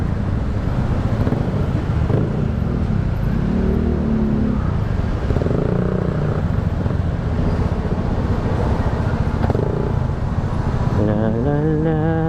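Steady road traffic rumbles throughout, a continuous loud wash of passing car engines and tyre noise with no pauses; near the end a person briefly sings over it.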